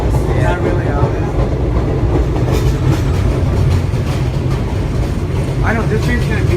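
An NYC subway train of vintage BMT/BRT Standard, D-Type and R9 cars rumbles and clatters steadily along the tracks, loud and close throughout, with voices talking over the noise.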